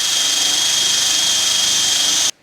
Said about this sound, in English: I can put a little more pressure on it and get the wire bristles right down into the crevices here.